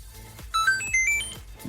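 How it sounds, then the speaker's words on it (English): Short bright chiptune blips from the NES video game Super Mario Brothers: a quick series of high beeping tones over a faint low pulse, lasting under two seconds. "Yeah, that's the sound of Super Mario Brothers."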